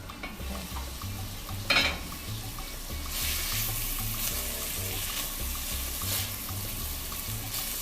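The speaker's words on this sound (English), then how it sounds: "you put that in, you fry it until it just almost burns, and then you put in the liquids" Onions frying in a pot for tortilla soup give a steady sizzle with occasional stirring scrapes and a brief louder clatter, close by and continuous, with a single short spoken word.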